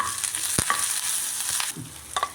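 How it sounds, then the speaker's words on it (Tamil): Curry leaves go into a tempering of green chilli and coconut on low flame for upma kozhukattai, giving a close crackling sizzle with a few sharp scrapes and knocks of stirring, with no talk. "கருவேப்பிலை இதை போட்டு நல்லா கிளறிடுறேன்"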